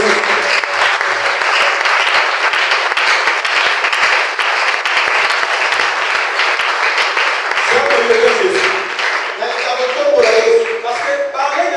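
A church congregation applauds for Jesus in a sustained wave of loud, dense clapping from a large crowd, with cheering voices rising toward the end.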